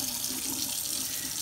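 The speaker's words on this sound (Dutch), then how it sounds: "Ondertussen dan kan je de koude kraan laten lopen." Cold water running from a tap into a sink, a steady close hiss and splash held evenly throughout without any voices.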